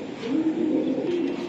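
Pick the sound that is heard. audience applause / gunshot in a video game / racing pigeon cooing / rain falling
racing pigeon cooing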